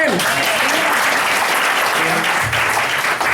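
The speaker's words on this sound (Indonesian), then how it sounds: "Tepuk tangan buat Bapak Ibu sekalian" Seminar audience applauding steadily and loudly, a dense wash of clapping running the whole time, with a voice briefly audible near the start.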